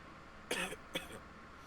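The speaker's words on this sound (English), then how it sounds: "Your cough went perfectly to the music." Two quick, soft coughs in a row, close but quiet, over faint background noise.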